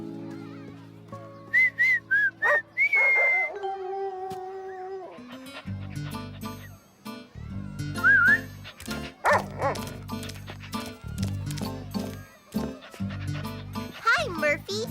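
A cartoon dog barks in quick yips after a whistle calls it, with a rising whistle tone and bright cartoon music running throughout while children talk over the scene.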